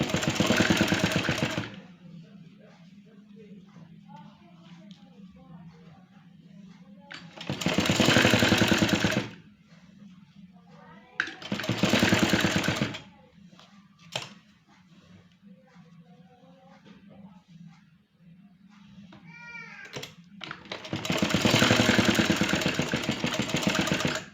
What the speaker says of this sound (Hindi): एक साइड से मैंने कर ली है स्टिचिंग, अब दूसरी साइड से